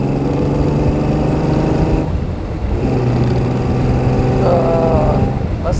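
A 1935 Frazer Nash BMW 315 Sport with its six-cylinder engine drives along steadily, the engine drone continuous and fairly loud with a slight rise in pitch near the end, heard from close by.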